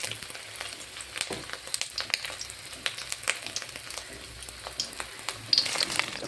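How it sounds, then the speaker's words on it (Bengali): Bora fritters fry in an overheated wok, a soft, fairly quiet sizzle with frequent sharp crackles and pops scattered across several seconds, heard up close without talk. "কড়াইটা বেশি গরম হয়ে গেছে"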